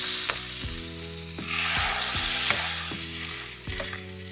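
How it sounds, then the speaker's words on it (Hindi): Asafoetida and cumin tempering in hot mustard oil for a cucumber raita, giving a steady sizzle and frying hiss beneath background music with regular rhythmic beats. "आज खीरे के रायते में मैं लगाऊंगी एकदम देसी तड़का, सरसों के तेल में हींग और जीरे वाला"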